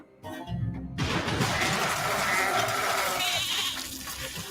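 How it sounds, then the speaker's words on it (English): Goats bleating amid a noisy outdoor crowd, their calls rising over a steady wash of chatter and movement after a brief quieter start. "I hear goats. There's the goats coming"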